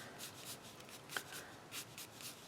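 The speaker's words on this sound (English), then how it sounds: "I need this space now for drawing the beard, so I'm just going to sort of erase that." Pencil drawing on paper being erased, a soft rubbing scrape repeated in short bursts of strokes, faint and close, with no voices.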